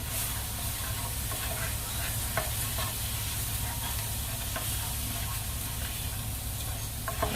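Minced garlic sizzles in a pan that still holds the juices from cooked chicken and shrimp, a steady loud hiss with occasional stirring scrapes and crackles, close and continuous.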